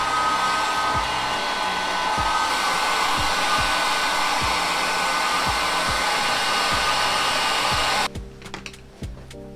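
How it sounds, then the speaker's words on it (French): A hair dryer heats a sticker to loosen it from a Honda 600 Transalp motorcycle. Its steady, loud blowing roar is close, with regular soft thumps underneath, and it cuts off near the end leaving faint handling noises. "on va essayer de décoller l'étiquette au sèche-cheveux"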